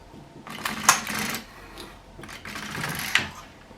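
An LK150 knitting machine carriage is pushed across the needles in two clattering sweeps, each a mechanical rasp with sharp clicks, close and fairly quiet with no talk.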